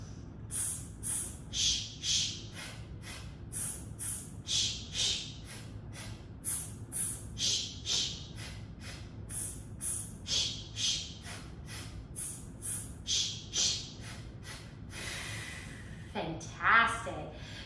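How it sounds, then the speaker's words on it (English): Repeated sharp breaths during a vocal warm-up exercise, each quick intake followed by a short hissing release, coming in a steady pulsing rhythm over about fifteen seconds and ending in a longer, rougher breath. "let's do it together, breathing in"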